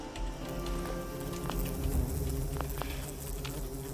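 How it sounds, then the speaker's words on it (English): Bees buzz in the video game Fallout 76, a low droning hum layered over steady game ambience, with a few soft ticks and taps scattered through. "I forgot that bees live"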